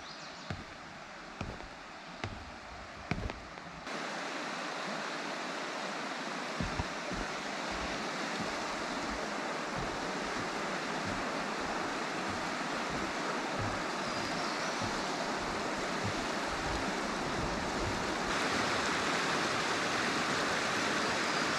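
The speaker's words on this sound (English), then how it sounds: "Horse Pasture River, complete with steps." Horse Pasture River rushing steadily over rock steps on a trail near Lake Jocassee, a continuous broadband roar of flowing water that thickens after the first few seconds, with a few faint knocks early on.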